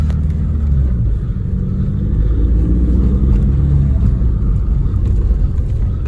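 A rusty Audi A3 project car being driven, heard from inside as a steady low engine and road rumble, continuous and fairly loud, with no talking.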